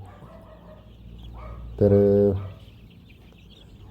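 Kaveri chickens on a poultry farm give a loud, harmonic squawking call that lasts about half a second, set against softer background clucking and low farmyard noise, with a brief word spoken nearby.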